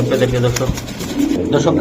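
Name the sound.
racing pigeons calling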